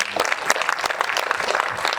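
Audience applause for the Battle of Homestead volunteers at the City of Steel film premiere: a dense, steady burst of many hands clapping close by, filling the whole moment with no break.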